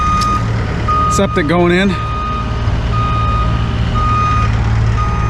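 Truck reversing beeps ring out steadily in regular pulses across a busy building site where a telehandler and boom truck work on a septic install, over constant engine rumble, with a brief voice cutting in.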